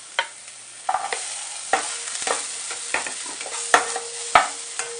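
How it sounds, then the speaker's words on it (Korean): Bacon and onion being stir-fried in a pan: a spatula scrapes and taps against the pan in irregular strokes over a soft, steady sizzle, close up with no voices. "자, 베이컨 볶다가 양파,"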